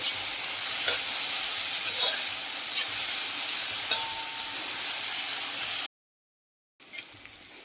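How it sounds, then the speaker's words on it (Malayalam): Onion with turmeric powder stir-fried in a pan, a steady close sizzle with occasional scrapes of stirring, the frying stopping briefly near the end before resuming more quietly. "ഇനി നല്ലപോലെ ഇളക്കി നമുക്ക് മൊരിച്ചെടുക്കാം"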